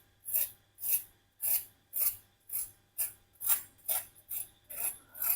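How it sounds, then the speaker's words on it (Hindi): Crispy fried cheese chicken drumsticks being bitten into, about a dozen evenly spaced crunches, close and faint, with nothing else in the background. "अब हम इसको चेक करके दिखाएंगे कि ये कितनी क्रिस्पी बनी है"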